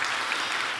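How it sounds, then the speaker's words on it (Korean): A church university-group congregation claps in praise during a worship service, a brief burst of dense, even applause. "우리 먼저 하나님 앞에 영광의 박수 함께 올려드리겠습니다."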